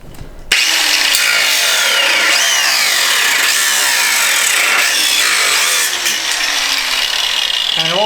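A power tool trims a slim-profile bumper on a fifth-generation Toyota 4Runner: a loud, continuous abrasive cutting whine that starts abruptly and holds steady for several seconds, with shifting pitch as the blade bites into the material.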